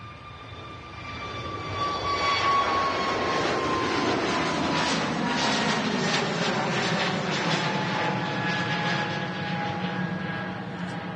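An EasyJet Airbus A320neo at Manchester Airport approaches with a whining engine tone that builds over the first two seconds into a loud, sustained roar, then slowly fades, with no voices.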